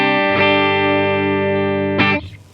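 A clean electric guitar chord rings out through a Line 6 POD Go amp model with reverb and delay switched off. It sustains evenly, then is strummed again and quickly muted, loud and close.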